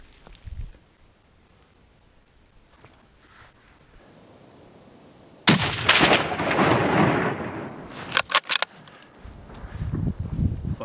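A loud rifle shot during a chamois hunt in steep New Zealand mountain terrain cracks suddenly after a quiet stretch, then rolls off in a long echoing boom, followed by a few sharp handling sounds and movement noise.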